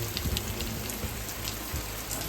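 Rain beginning to fall outdoors at a stone house building site, a steady faint hiss of drops on surfaces with a few slightly louder patters, continuous and low in level.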